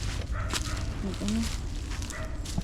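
Farm guard dogs give short barks and yips in a rural forest area. The barks are faint and distant, heard under ongoing ambient noise with some speech.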